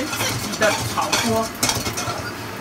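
Utensils stirring and scraping in a Japanese-made Chinese-style iron wok in a home kitchen, with metallic clinks and a faint sizzle of frying, close and steady without talk.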